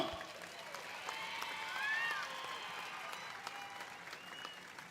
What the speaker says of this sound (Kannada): ಚಪ್ಪಾಳೆ ಸಾಲಿಲ್ಲ ಇನ್ನು